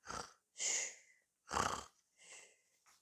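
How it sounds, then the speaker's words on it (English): Several noisy, breathy snores in a slow uneven rhythm, close and fairly quiet, with short pauses between each rasping breath. "just before he began to snore."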